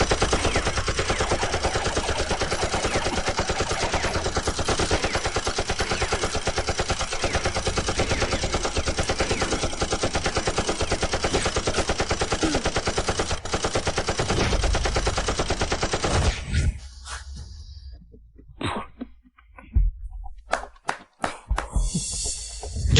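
Sustained machine gun fire rattles loudly and continuously for around sixteen seconds in an action scene, then breaks into scattered, fainter bursts and silence.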